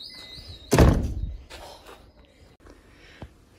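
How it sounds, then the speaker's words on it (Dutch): A door shuts with a loud close thunk, followed by faint rattling and light movement sounds; a high electronic tone hums quietly beforehand. "Oh nou, deur dicht."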